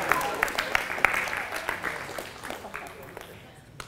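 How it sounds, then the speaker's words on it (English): Audience applause in a gym setting, a dense wash of many hands clapping that starts full and gradually thins and fades out over a few seconds. "Give them a round of applause."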